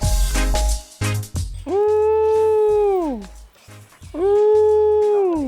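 A person imitates a tiger's greeting sound: two long, drawn-out nasal chuffing calls with a slight downward slide, preceded by short breathy bursts.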